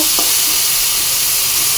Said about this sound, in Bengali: এবার আমি এটা নেড়ে নেবো ভাজা ভাজা করবো গ্যাসটা কমিয়ে দিয়ে লো ফ্লেমে এটা একটু ভেজে নেব